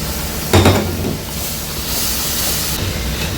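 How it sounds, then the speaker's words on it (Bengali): Tomato puree hits hot oil for a rohu fish curry, bursting into a loud sizzle and hiss at once, then settling into a steady frying hiss with some stirring. "এবার আমি এটা দিয়ে দিচ্ছি পিউরি করে রাখা টমেটো"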